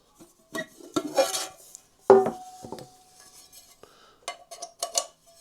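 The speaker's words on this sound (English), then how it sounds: "It's a 1 litre pot, and a frying pan that fits on top." A Trangia 23 spirit stove set's 1-litre pot and fitted frying pan are handled up close, with scattered metallic clinks, scrapes and one sharp ringing knock in a quiet room.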